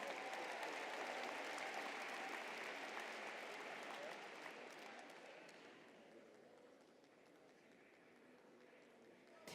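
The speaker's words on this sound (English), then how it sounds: "Please give them all a round of applause." A large audience applauds at the Los Angeles mayoral inauguration, a dense, steady wash of clapping that gradually thins and fades toward the end.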